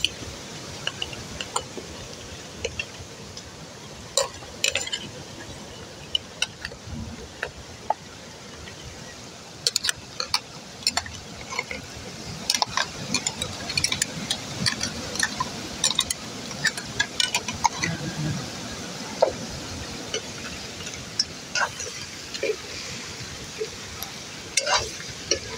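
Pork curry sizzling in a pan with onion, garlic and ginger masala, stirred throughout with frequent scraping clicks over a steady frying hiss, close and fairly loud, with no talk.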